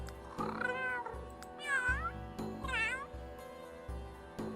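Several synthetic cat meows from The Sims 3 video game, drawn-out and tonal with falling and rising pitch, repeated at intervals over a steady low game hum.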